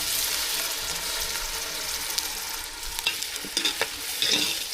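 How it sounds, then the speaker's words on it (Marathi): Soft frying sizzle of a spice tempering in a pan with a few sharp clicks and scrapes of stirring toward the end, close and fairly quiet. "आपली फोडणी होती ती व्यवस्थित भाजून झालेली आहे"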